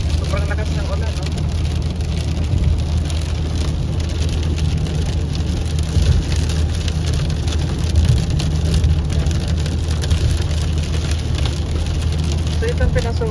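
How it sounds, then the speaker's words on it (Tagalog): Heavy rain drums steadily on a car's roof and windshield while driving home at night, a dense constant hiss under a low engine hum, with a person talking over it. "Sobrang lakas ng ulan, no?"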